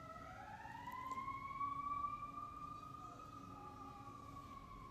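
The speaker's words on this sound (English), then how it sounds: "I do apologize about the ambulance." Ambulance siren wailing in Chicago, a rising and sliding tone heard faintly from outside, steady and distant with low traffic rumble underneath.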